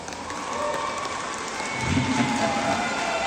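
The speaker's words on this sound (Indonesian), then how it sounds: "HKBP Pandan, tepuk tangan" At a Christmas celebration in Tapanuli Tengah, an audience applauds a church youth group from HKBP Pandan, with a steady wash of clapping that swells slightly midway, crowd murmur beneath.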